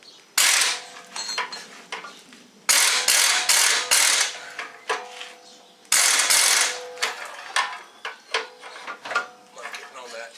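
A ratchet with a short socket clicks against a shock bolt on a Jeep Wrangler TJ during a lift kit install, in repeated bursts of fast ratcheting separated by brief pauses, close up, with someone talking at times.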